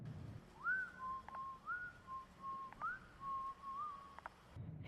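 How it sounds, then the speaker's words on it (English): Eerie human whistling in a spooky story, a slow wavering melody of rising and held tones repeated in several phrases, faint and distant against low background hiss. "we heard the whistling"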